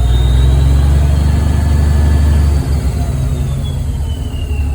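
Log loader shovel engine with no exhaust runs loud and close, a heavy, deep roar that holds steady, then settles slightly lower partway through; no talking.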